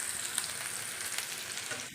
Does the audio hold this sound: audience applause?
no